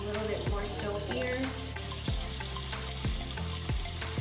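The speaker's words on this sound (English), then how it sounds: "Just first I'm gonna put some water on and just add a little water to it." Water runs steadily from a tap onto a Lush bath bomb, a continuous splashing hiss with occasional soft knocks and drips.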